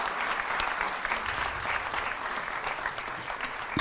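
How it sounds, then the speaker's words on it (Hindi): Sustained audience applause at a book launch for a Hindi book discussed by Dr. Tharoor, a dense wash of many hands clapping steadily from start to finish with no break. "एक बार ताली तो इस बात पे बजनी चाहिए"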